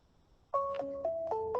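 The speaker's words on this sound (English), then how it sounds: "is that my husband calling me on Google Hangouts while I'm on the phone?" A Google Hangouts incoming call ringtone plays a bright sequence of clean electronic tones in a short melodic pattern, clear and fairly close against a quiet background.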